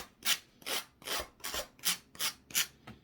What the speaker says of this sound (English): just using the sandpaper or the sanding block